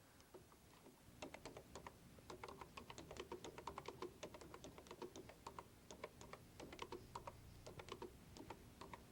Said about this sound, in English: Let's start a new sign by touching the caps lock key and then typing